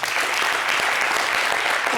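A TV show studio audience gives steady, full applause, a continuous wash of clapping with no gaps across the whole stretch.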